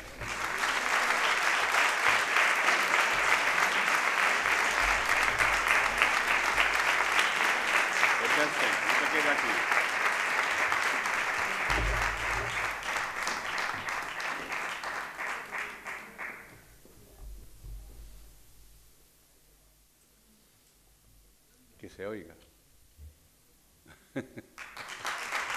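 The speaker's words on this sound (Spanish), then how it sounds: "aquí Felipe, y la presencia de Laura con un fuerte aplauso." A large audience at a saeta singing contest final applauds loudly and continuously for about fifteen seconds before the clapping fades out, followed by a few scattered sounds.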